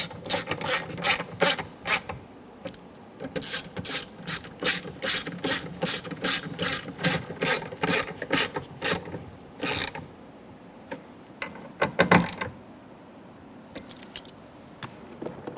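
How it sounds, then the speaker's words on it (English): Ratchet wrench snugging down bolts on a 2014-2018 Chevrolet Silverado rear window regulator, a close run of quick clicking bursts in steady rhythm, pausing briefly before a few final louder clicks. "Snug the bolts down."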